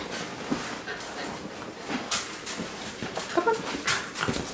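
A dog whimpers and fusses in short, soft bursts as it tries to climb into a lap indoors, with faint movement noise between the cries.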